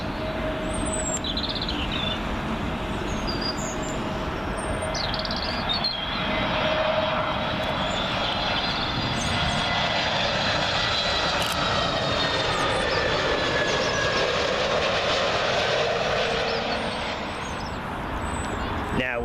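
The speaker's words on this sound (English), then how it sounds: "Next one in, Iberian Airbus A320neo," An Iberia Airbus A320neo arriving from Madrid at Heathrow Airport, its engines giving a steady broad roar with a whining tone that swells and holds for about twenty seconds, fairly close and loud.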